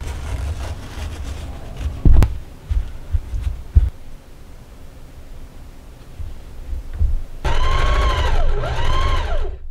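A sewing machine stitches gathers along the top edge of a middle skirt tier cut from a bedsheet, its motor whirring in short bursts before settling into a steady run.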